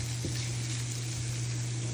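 Shrimp sautéing with garlic in olive oil, a continuous gentle sizzle with a brief toss near the start, steady and fairly quiet with a low hum underneath.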